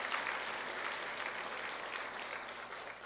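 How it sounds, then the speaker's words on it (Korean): A church congregation applauds the choir and musicians at a Christmas service, a steady, dense wash of many hands clapping at once, moderately distant and continuous without a break. "우리가 격려의 박수하겠습니다"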